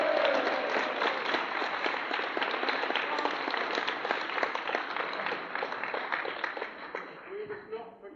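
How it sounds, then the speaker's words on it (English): At an old-time music hall show, an audience gives Jane loud, sustained applause, a thick wash of clapping that holds for about seven seconds before tapering off. "Loud, loud, loud applause for Jane."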